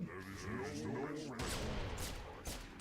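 A voice speaks over the first half before a sharp burst of sniper rifle gunfire in a video game, followed by a few more cracking shots and echoing reports.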